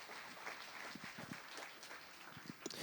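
A church congregation applauds in a steady, diffuse wash of clapping that stays fairly distant, with a few louder claps standing out.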